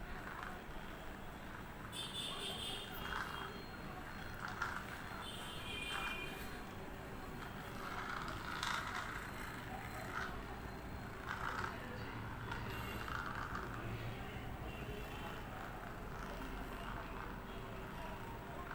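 An electric massage machine runs with a steady mechanical whir and rattling, buzzing motor noise, continuous at moderate loudness with occasional knocks and shifts in tone.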